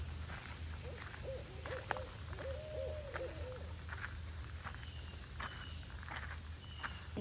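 Several owl hoots sound in short repeated groups, fairly distant, over faint insect chirping and a quiet outdoor background with occasional soft rustles.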